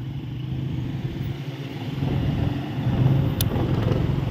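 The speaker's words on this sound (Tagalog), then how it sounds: "Okay, tumutunog talaga yung motor ko mga kalingap." A faulty motorcycle engine runs steadily close by with a rough, rattling low drone that grows a little louder midway, with no voices.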